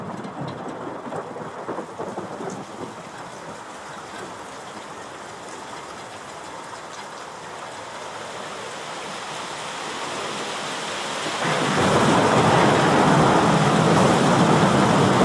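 Simulated storm effect of rain, wind and thunder played through a venue show-control system: a steady rushing rain wash with low rumbling thunder, swelling sharply louder toward the end as a heavy downpour takes over.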